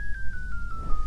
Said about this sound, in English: battery low sounds like this